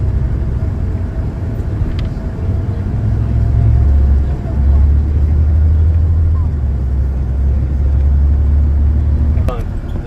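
A bus riding through Kingston, Canada, giving a loud, steady low engine rumble that swells and drops slightly as it moves, with a couple of brief rattles and clicks near the start and end.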